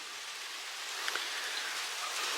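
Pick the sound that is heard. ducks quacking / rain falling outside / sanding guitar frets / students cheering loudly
rain falling outside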